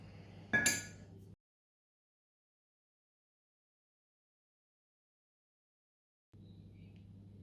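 A single sharp metallic tap from a soft punch seating a wheel bearing race into the front hub of a VW T3 Vanagon, close and clear, with faint workshop hum before and after a stretch of silence.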